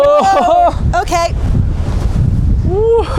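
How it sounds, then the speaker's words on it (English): Strong desert wind buffets the microphone in loud, rushing gusts while people talk and exclaim over it. "It is so windy."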